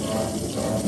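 Water runs from a kitchen tap into the sink for a brief rinse, a close, steady splashing rush.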